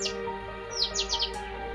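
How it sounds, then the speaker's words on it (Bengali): Birds at dawn give a few short, thin chirps in quick bursts over a steady low background hum, fairly close and moderately loud, with no voices. "ভোরবেলায় পাখির ডাকটা শুনতে কি ভালো লাগছে।"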